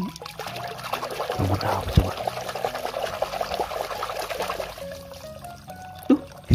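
Water pours over a plastic toy robot figure being washed, a steady splashing trickle running throughout with a few sharp knocks, close by and moderately loud.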